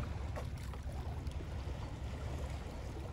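A low, steady engine rumble from a traditional fish-trap fishing boat in Kuala Terengganu runs beneath a wash of water and wind noise, continuous and fairly faint, with no voices.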